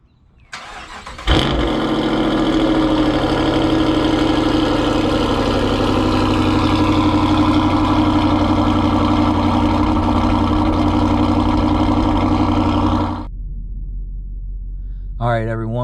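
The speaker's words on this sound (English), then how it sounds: "We're going to start off the vlog, obviously, with a cold start." Cold start of a Dodge muscle car on an early Sunday morning, a sharp crank and catch that flares loud, then settles into a steady, deep, rumbling idle that holds close and strong before dropping to a lower hum.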